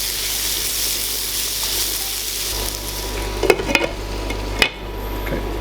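Pumpkin kadhi with onion, salt and turmeric being mixed in a pot: a soft steady hiss with a low hum, then a few louder clinks and scrapes of a spoon near the end.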